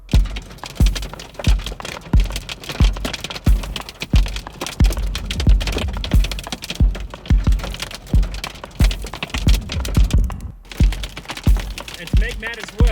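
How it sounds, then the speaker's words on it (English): Large hailstones hammer a vehicle during a storm in the Kalahari, loud close thuds and cracks striking in a dense irregular volley over a constant hiss of ice, continuing for the whole stretch. "this hail's quite big and it's smashing the car"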